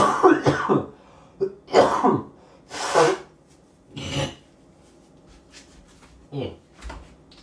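A voice makes several rough coughing and throat-clearing sounds, spaced irregularly with short pauses between bursts.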